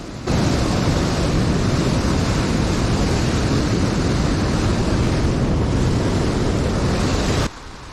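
A fast-flowing mountain river on a Himalayan trek near Kedartal, Uttarkashi, rushes in a dense, steady roar, loud and close, with no voices over it.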